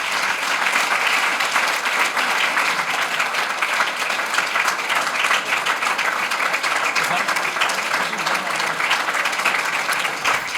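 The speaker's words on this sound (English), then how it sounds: "Another round of applause for new head coach Damon Stoudamire." An audience applauds steadily and loudly for a new head coach at a Pacific athletics welcome event, with dense continuous clapping throughout and no speech over it.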